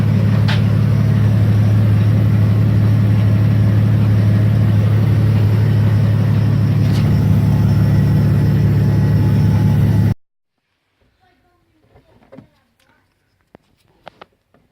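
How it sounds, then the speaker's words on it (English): A loud fuel pump on a turbo Ford ED Falcon, heard from outside at the back of the car, makes a steady, dense drone for about ten seconds, then cuts off to near silence with a few faint knocks. "you can hear how loud the fuel pump is from the outside"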